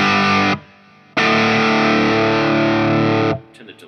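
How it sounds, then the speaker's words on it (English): Distorted electric guitar played through a Line6 Helix with a Marshall-type amp preset and chamber reverb: a loud sustained chord rings out, cuts off, then a second long chord is held before decaying into a short reverb tail with faint background noise. "I like the chamber reverb. I think that's quite a nice one."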